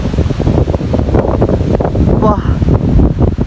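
Strong wind blows across a misty mountain ridge at Hatale, roaring and buffeting close to the microphone in a continuous rumble with gusty surges.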